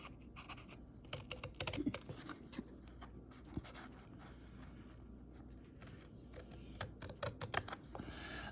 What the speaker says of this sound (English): And so what we're going to do is cut them off.